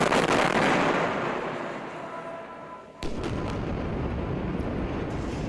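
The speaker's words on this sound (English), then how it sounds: "The sounds of artillery, explosions, death, terrifying at any time." A deep, rumbling artillery explosion in Israel during the Gaza conflict fades out over a few seconds, followed by another heavy blast and a sustained roar, distant and booming.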